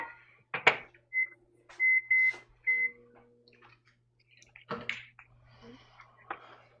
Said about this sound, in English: I'm gonna put my gelatine water, about a cup, in the microwave for about a minute.